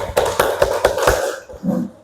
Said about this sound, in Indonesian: Sekarang kelompok 2 beri tepuk tangan.